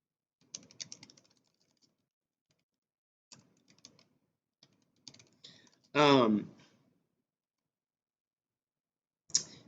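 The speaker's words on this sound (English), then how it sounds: "it would be helpful if I could type" Short bursts of computer keyboard typing come in scattered clusters of clicks at a close, quiet level, with long silent gaps and one louder burst of a voice in the middle.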